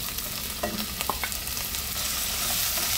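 Small talangka crabs sizzle loudly as they hit a hot pan with shrimp paste, a bright crackling hiss punctuated by a few sharp pops, the frying building steadily louder toward the end.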